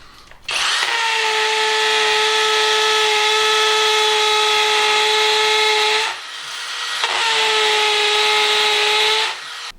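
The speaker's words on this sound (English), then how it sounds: "this is a particularly hard brick and I'm only using the 2Ah battery with a drill on hammer action" Erbauer pro-grade cordless drill on a 2Ah battery, set to hammer action and boring into a particularly hard brick: a loud, close, steady whine runs about five seconds, pauses briefly, then resumes for roughly three more seconds.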